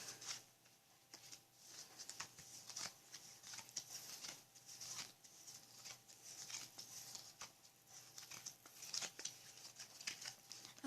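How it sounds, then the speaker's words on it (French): Playing cards dealt one at a time into two piles for a card trick, a quiet run of soft, rapid flicks and slaps close by with no talking. "Et ensuite vous lui demandez de faire 2 paquets en distribuant une carte chacune"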